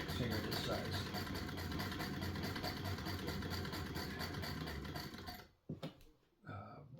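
A Singer 128 hand-crank sewing machine runs steadily with a rapid mechanical clatter for several seconds, then stops, leaving a few brief knocks and a faint voice.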